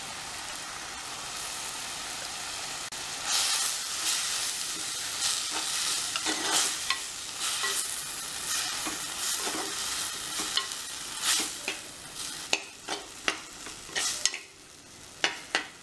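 Manathakkali (black nightshade) greens sizzle and fry in a pan while being stirred for a tamarind kuzhambu. Scraping stir strokes and crackling bursts come close and fairly loud, with no talking.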